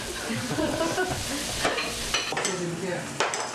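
Meat grilling at a Korean family meal, giving a steady close sizzle and crackle with a few sharper pops and scrapes, and no one talking.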